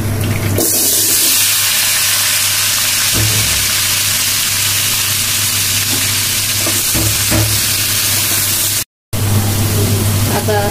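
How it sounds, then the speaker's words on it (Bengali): Vegetables frying lightly in a pan, a loud continuous broadband sizzle and hiss close up with a few stirring knocks, briefly cut by a moment of silence near the end. "আমি সবজিগুলো ভেজে নেব একটু হালকা করে।"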